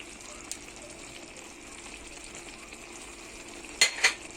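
Tomato sauce with garlic simmers in a pan with a faint, steady bubbling hiss, and two quick clatters or stirs come near the end.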